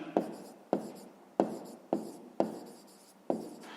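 Pen scratching on paper while working a fifth-grade math exercise: six short, crisp strokes, each starting with a sharp attack and trailing off, spaced irregularly and close, with no talk.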